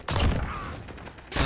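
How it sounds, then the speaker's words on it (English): An R9-0 shotgun fires in the video game Modern Warfare, with a loud, close blast that rings out and decays, then a second sharp shot at the very end. "Actually going alright with the shotgun on this map."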